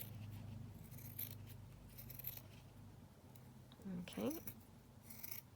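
Scissors snip down a piece of paper ephemera during a craft project, a few short crisp cuts heard close under a quiet room, with a brief spoken word near the end.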